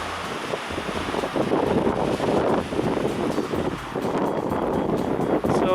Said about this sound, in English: The trees are almost bent over double when a strong gust comes, like one's coming now.